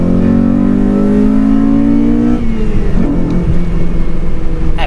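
A Maserati engine revs loudly and close by, pitch climbing steadily before dropping off into a rougher idle with a brief blip near the end.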